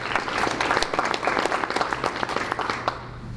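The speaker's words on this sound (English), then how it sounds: "Let's give them a round of applause" Applause at a county school board meeting for a high school track team, brisk continuous clapping from a room of attendees, fairly close and even, tapering slightly at the finish.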